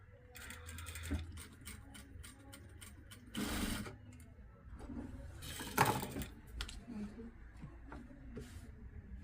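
Sewing machine stitching a party frock in a tailoring shop, quiet rapid mechanical chatter in short bursts with pauses and handling noises between runs, heard close up.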